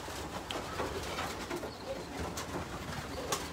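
Racing pigeons murmur and coo in a loft as a continuous, soft, busy texture of overlapping calls, with faint rustling and no talk.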